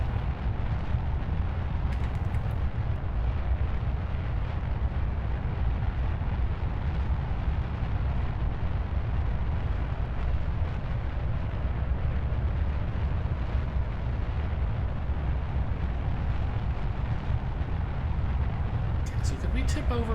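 Rocket lift-off in Kerbal Space Program, a continuous deep roaring engine rumble holding steady and loud throughout, with a person talking over it.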